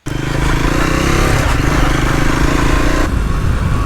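A Triumph Scrambler 400 X motorcycle engine drones steadily and loudly while riding, a constant close rumble with slight shifts in pitch.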